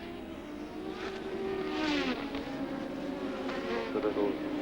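A 1986 Formula 1 car with a Renault turbo engine on maximum qualifying boost during practice at the Hungarian Grand Prix, its high-pitched engine whine rising and falling at moderate distance with a shift in pitch as it passes.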